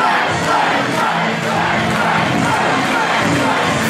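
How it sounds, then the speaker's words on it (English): A dense, roaring crowd at a CTWE wrestling event cheers and shouts continuously and loudly, with no pauses, at the 2012 Bethany Battle heavyweight championship. "And you hear it from the crowd."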